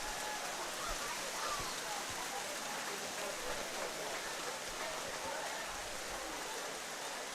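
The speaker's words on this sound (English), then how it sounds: "Rain starting to get heavy here from RIT." Heavy rain pours steadily on an outdoor American Legion baseball field at RIT, a dense, even hiss of falling water lasting throughout with no letup.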